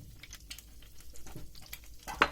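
Yogurt being stirred with olive oil, a soft wet scraping and sloshing in steady strokes, faint and close, ending with a brief sharper knock.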